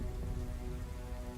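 Steady heavy rainfall hisses continuously, dense and even, played as ambient backdrop for a tabletop fantasy roleplaying session, with no voices over it.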